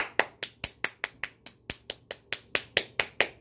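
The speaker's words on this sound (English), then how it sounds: "Golf clap." A slow golf clap by a single person: about fifteen crisp, evenly spaced claps, close and distinct with short gaps between, no talking.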